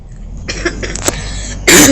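A single harsh cough from a sick person bursts out near the end after a stretch of quiet background noise, loud and close.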